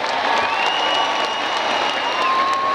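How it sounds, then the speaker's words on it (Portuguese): A large crowd at a live show with Kannario and Xanddy gives a steady roar of applause and cheering, with thin whistle-like tones rising over the dense wash of clapping. "Eu quero só pedir mais uma vez uma salva de palmas para esse cara"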